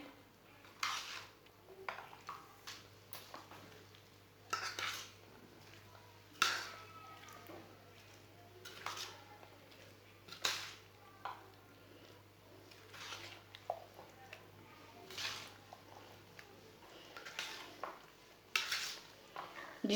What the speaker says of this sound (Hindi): सब चीज़ों को अच्छी तरह मिक्स कर लेते हैं।